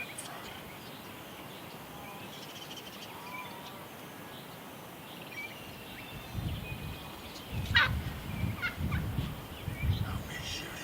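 A wild turkey gobbles during a Nebraska bow hunt, the calls coming in the second half over a quiet outdoor background.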